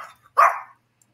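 A small dog gives a single short bark, close and fairly clear, playing back from a recorded clip with nothing else around it.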